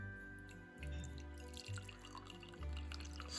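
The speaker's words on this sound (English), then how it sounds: "So I think my ginger tea is ready, so let's have a look. Let's pour it." Homemade ginger tea poured from a pot into a cup, a few seconds of dripping and trickling liquid with splashy bursts, close and fairly quiet.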